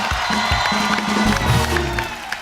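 Studio audience on a comedy talk show clapping and cheering loudly for a singer, a close, dense wash of applause with whoops and excited shouts rising over music.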